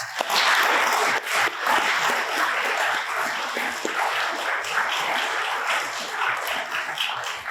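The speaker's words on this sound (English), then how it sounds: "Let's give them a round of applause." Audience applause at a city State of the City presentation, a dense, sustained crowd clapping that stays loud and even for the full length with no talk over it.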